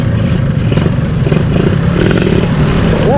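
A motorcycle fitted with a big carburetor on a daily-racing setup revs hard and close, a loud, gritty, sustained engine roar with rattly clatter throughout the short burst.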